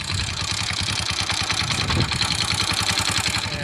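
A motorcycle engine runs steadily up close while riding home from the fields, a continuous throbbing rumble with a rough, even pulse and no voices.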